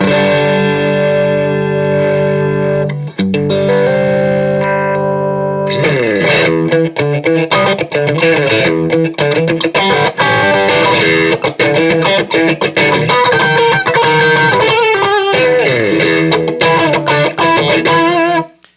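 An electric guitar played through a PRS MT100 amp with the gain pushed high gives loud, heavily distorted sustained chords that give way to fast, busy riffing, continuous and unbroken.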